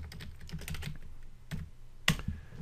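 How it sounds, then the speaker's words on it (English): Quick typing on a computer keyboard, a run of close key clicks ending in a louder, firmer keystroke as enter is hit, with no talking. "So I typed in TKK and I hit enter"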